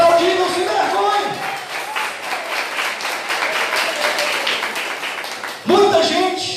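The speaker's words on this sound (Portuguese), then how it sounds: "Pode aplaudir, não se envergonhe." A church congregation breaks into sustained applause during a thanksgiving service, dense clapping filling the room for several seconds before a voice cuts back in.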